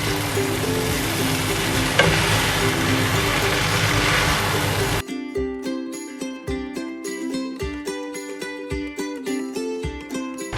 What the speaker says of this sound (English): Use both spatulas to do this, so it's easier for you to mix the noodles.